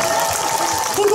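An outdoor festival audience at a trot performance by a janggu drummer claps in a brief, dense burst, with a voice faintly present beneath the applause.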